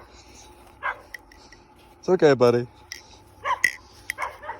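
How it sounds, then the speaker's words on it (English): Dogs bark in short bursts and whimper at a home, with a loud cluster of barks in the middle and quieter whines around it; someone speaks softly to them. "apologies for the dogs. You might be hearing them for a while."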